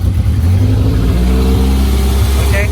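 A Toyota Corolla engine runs at a high idle, a loud, close, steady low rumble with a faint mechanical whine near the end and no talking.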